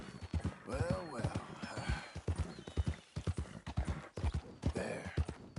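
Horse hooves clip-clop steadily on the ground in Red Dead Redemption 2, a brisk rhythmic walking beat heard close, with a whinny and a voice speaking over it.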